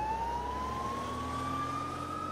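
Ambulance siren heard as a single steady wailing tone that rises slowly in pitch over a low rumbling traffic background.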